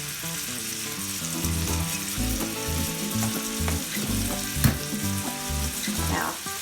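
Garlic and a grass-fed steak fry in a cast iron skillet with a busy, continuous sizzle and crackle, joined by some tonal background sounds and a brief clatter near the end.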